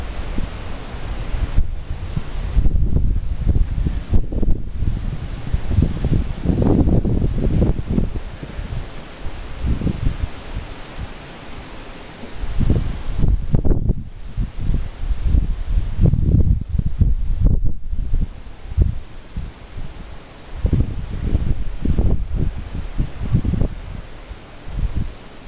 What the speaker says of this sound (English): It's going to be a little bit windy